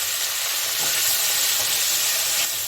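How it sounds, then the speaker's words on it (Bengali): Sliced okra frying at high heat in a pan with potatoes gives a loud, steady sizzle and hiss, continuous and close, with faint stirring beneath it and no talking. "আমি এটাকে হাই হিটে ভাজছি"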